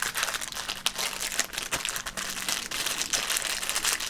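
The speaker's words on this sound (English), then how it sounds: "Let's get into the pack, and you know it. Let's crinkle." The wrapper of a 1988 Donruss rack pack of sports cards crinkles up close, giving dense, continuous crackling and plastic rustle in quick bursts with no talk.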